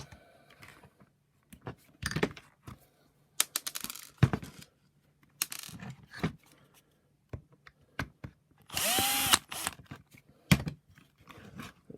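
Screws being undone from a Shark Stratos IZ400UK power nozzle floor head give scattered close clicks, ticks and short scraping bursts, with a longer rasping stretch partway through and quiet gaps between handling noises.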